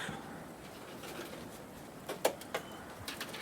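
Wild birds at a snowy winter cabin feeder stocked with frozen protein, where nuthatches, chickadees, whiskey jacks and woodpeckers come to feed; a few short, soft calls sound near the end over faint outdoor hush.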